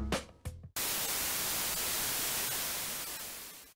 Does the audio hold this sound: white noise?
yes